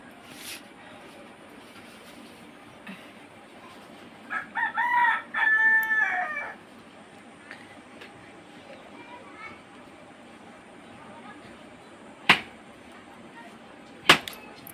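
A rooster crows once nearby, a drawn-out harmonic call standing out from a quiet outdoor background with a few sharp clicks later.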